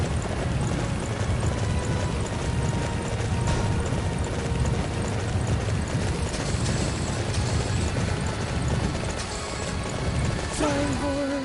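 Horse hooves in the battle game Dynasty Warriors, a steady galloping patter under dense game noise and a busy mix, continuous throughout with a brief tonal cue near the end.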